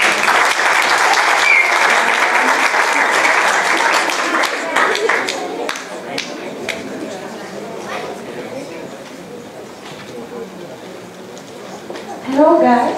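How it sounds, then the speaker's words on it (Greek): Warm applause from an audience at a chemistry science event, loud dense clapping for about five seconds that thins into scattered claps and murmuring, ending as a voice begins. "Ένα θερμό χειροκρότημα."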